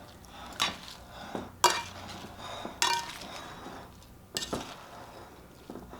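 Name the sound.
tossing sardine olive tapenade salad in a bowl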